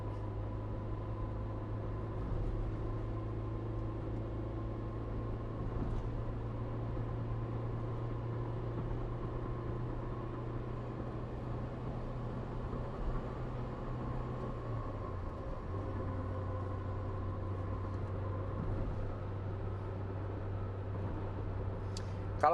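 Faint, steady differential hum inside a 2018 Wuling Confero S cruising at about 85 km/h, a low continuous drone over road and cabin noise that dips briefly midway and then returns.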